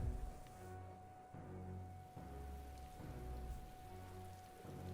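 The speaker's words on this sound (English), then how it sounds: "Oh, I hate the rain." Steady rain falling in the video game Metaphor: ReFantazio, a continuous soft patter on surfaces with slight swells, faint and low with no talking.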